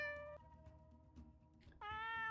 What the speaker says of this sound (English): Oh, there's the other kitty.